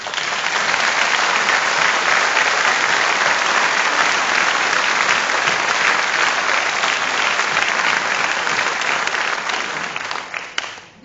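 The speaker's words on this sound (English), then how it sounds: "Please join me in a warm round of applause for our fabulous Carl Bella." An audience applauds warmly at a gathering, a dense, steady wash of clapping hands that holds loud and even for about ten seconds before thinning out at the end.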